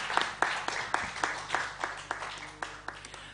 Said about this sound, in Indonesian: Tepuk tangan buat Mas Agung.